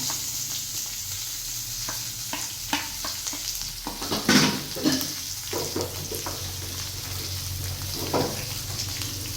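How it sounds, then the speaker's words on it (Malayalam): Onions with salt sautéing in a pan for semiya upma, a steady sizzle under repeated scraping and stirring strokes, loudest midway. "എന്നിട്ട് കുറച്ച് ഉപ്പിട്ട് നമുക്കൊന്ന് വഴറ്റിയെടുക്കാം"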